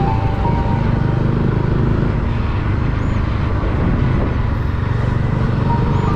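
A Bajaj Dominar motorcycle approaches on a road near Kuttikkanam, its engine a steady broadband roar that stays loud and near for the whole stretch, with no speech over it.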